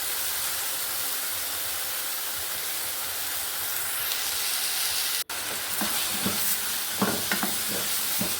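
Ingredients sizzle and hiss while being sautéed and stirred in a pan on a home stove, a steady close frying noise with scraping stirring sounds after a brief cut.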